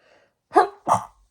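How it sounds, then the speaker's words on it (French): Two quick, close sneezes in succession, each a sharp burst about a third of a second apart, in an otherwise quiet room with a faint breath before them. "Et j'éternue"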